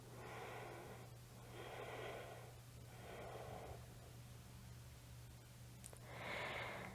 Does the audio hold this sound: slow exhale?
yes